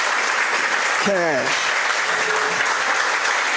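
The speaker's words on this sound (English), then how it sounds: "How about one more round of applause for Cash?" A studio audience on a coach's talk show applauds in a steady, dense wash of clapping while a voice briefly speaks over it.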